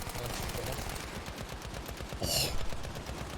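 MG42 machine gun fire in a Battlefield video game, a rapid unbroken burst of shots rattling steadily for several seconds with a sharper, louder spurt near the end.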